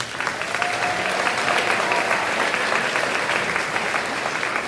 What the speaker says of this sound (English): can we have a round of applause for these teachers?